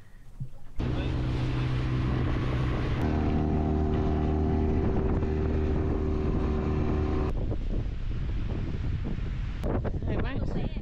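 Strong wind at sea buffets the microphone in a steady broadband roar, with a boat motor droning underneath for most of the stretch before easing off near the end.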